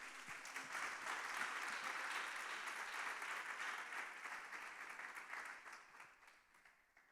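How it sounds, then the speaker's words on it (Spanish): A church congregation gives a sustained round of applause, even clapping from many hands at a moderate distance. It gradually fades away toward the end. "¿Le da un aplauso al Señor esta noche?"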